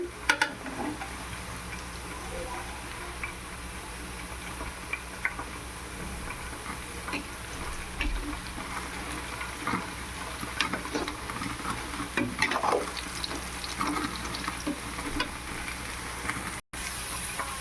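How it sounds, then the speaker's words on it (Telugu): Cashews and onions fry steadily in a pan, a continuous close sizzle with occasional stirring scrapes and small crackles throughout, no voices. "కాసేపు జీడిపప్పు కొంచెం వేగనిద్దాం ఎర్రగడ్డలు అయితే వేగుతున్నాయి"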